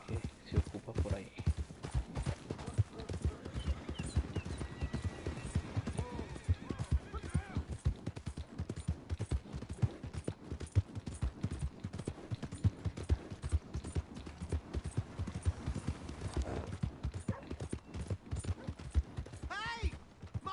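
Horse hooves clip-clop in a steady rhythm with occasional neighing, heard amid other scene sounds and voices throughout, moderately close and continuous.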